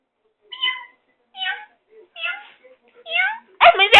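A person imitates a cat with four short, breathy meows to tease a dog, spaced about a second apart, followed by a loud sharp burst at the end.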